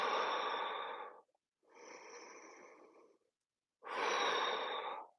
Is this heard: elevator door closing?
no